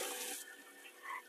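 Water rushing briefly into a newly installed porcelain toilet in a 2022 Airstream Interstate 19 Class B RV, a close, steady hiss of flowing water that eases slightly before a short swell.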